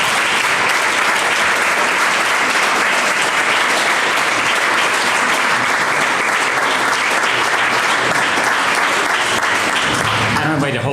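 A crowd at a regional tourism awards event gives loud, sustained, close applause for John Cruz, a retired former mayor, as he comes up to accept his award; the clapping stays full and even throughout before tapering right at the end.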